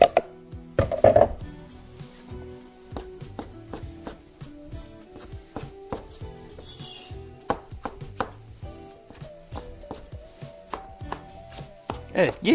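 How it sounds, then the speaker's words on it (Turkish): A knife chopping roasted vegetables on a board for a Caucasian-style soup, with quick, rhythmic close-up chops that occasionally speed into bursts, plus light clinks of kitchenware and no talking. "Ve burada sadece bunu doğruyorum."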